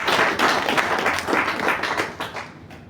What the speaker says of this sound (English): Please welcome him with a loud applause